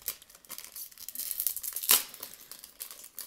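Plastic packaging of Skrepyshi 3 collectible toy figures being torn open, close crinkling and ripping that builds to one sharp tear, then lighter rustling.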